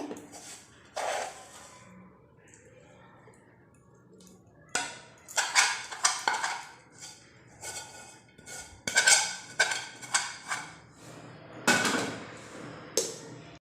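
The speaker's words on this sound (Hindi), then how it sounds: "मिक्स करने के बाद हम इसे फटाफट से डालेंगे थाली के ऊपर।" A spoon scrapes a hot, sticky sesame and peanut chikki mixture out of its pan onto a ghee-greased plate. Intermittent close metallic clanks and scrapes come in bursts, with no talking.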